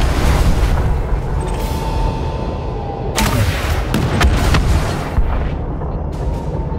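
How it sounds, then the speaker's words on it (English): Missile strikes pound base turrets in Elite Dangerous, a series of loud booming impacts and sharp cracks that land in irregular bursts over a continuous low rumble of engine and weapon noise. "Lasers and multi-cannons are fine, but missiles are always faster"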